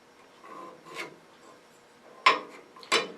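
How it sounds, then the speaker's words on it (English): A pencil draws a line on a piece of wood, giving soft, brief scratchy rubbing strokes: a few quiet scrapes followed by two sharper, louder strokes close up, in a quiet room. "now we're just going to draw a line down the middle here"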